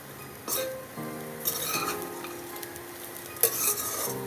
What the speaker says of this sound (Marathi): टाकायचे काजू आणि बदाम टाकलेले मी आवडीनुसार घेऊ शकता चांगले भाजून घ्यायचे